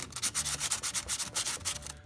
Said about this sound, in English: So we'll take some of the sandpaper, roll it up, and then we can get it inside of this terminal and just clean this out